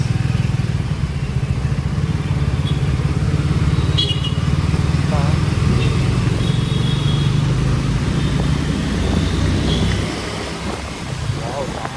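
A KTM Duke 390 racing along a windy beach road during a cyclone, its engine a loud continuous roar heavily buffeted by wind noise, with people talking over it.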